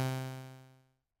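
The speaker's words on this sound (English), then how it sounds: "So by giving this signal a medium release, it'll sound like this." A single sustained synthesizer tone, rich in harmonics, that fades smoothly to silence over about a second after the note is released.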